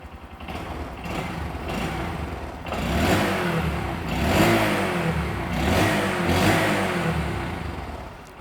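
A Honda Grom motorcycle with a Yoshimura-style exhaust idling nearby, a low steady mechanical putter that swells into a few gentle revs and settles back, with no voices.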